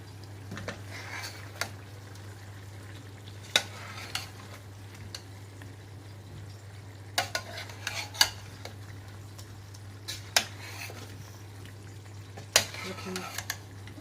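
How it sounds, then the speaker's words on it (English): Cauliflower and potato curry being stirred in a pan, scattered scrapes and clinks of a utensil against metal over a steady low hum and faint sizzling, with occasional louder knocks. "I'm going to give them a stir"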